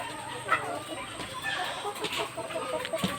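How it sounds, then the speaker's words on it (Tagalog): Egg-laying chickens cluck and murmur nearby in short, uneven bursts at about 5 p.m., with rustling and a voice speaking over the flock. "Dalaw tayo sa mga alaga nating manok."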